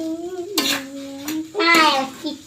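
A spoon scrapes and clatters while stirring chickpeas in a hot pan, two short bursts of metallic scraping around a voice talking close by.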